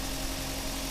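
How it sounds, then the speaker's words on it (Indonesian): A Toyota Avanza engine idles smoothly in a steady, even hum that is loud and close, with no talk. "Tuh, suara mesinnya halus ya."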